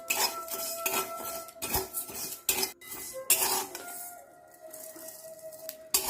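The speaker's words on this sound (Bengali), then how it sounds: "আর অল্প একটু মেথি আর নুন দিয়ে শুকনো করে নেড়ে নিতে হবে কড়াইয়ে।" Fenugreek seeds and salt are dry-roasted in a wok with a metal spatula, giving repeated clattering scrapes and clinks at an uneven rhythm, fairly close, with a faint high tone in the background.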